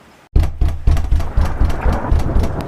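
Cartoon thunderstorm with a sudden loud crack, then a steady roar of heavy rain and rumbling that pulses on for a couple of seconds, with no voices.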